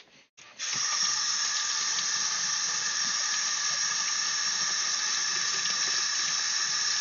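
A tap is turned on and water runs steadily for rinsing, a close, even hiss that starts after a short click and continues unbroken.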